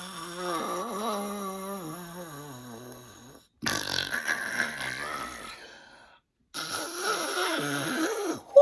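A voice imitates loud, drawn-out snoring in three long rattling bursts during a children's book reading, with short silences between them.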